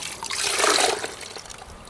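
A wash sponge plunges into a bucket of rinseless car-wash solution and is lifted out, a short loud sloshing gush of water that swells and fades over about two seconds, heard up close with no talking.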